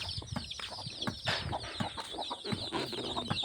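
Chickens and chicks clucking and cheeping close by while being fed grain, a busy overlapping chorus of short high chirps and low clucks, fairly faint, with no talking.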